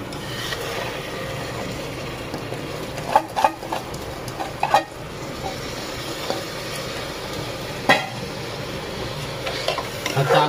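Rice is stirred and sautéed with spices in a pan, giving a steady low sizzle broken by a few louder scraping and clattering bursts of the spoon against the pan, with no talking.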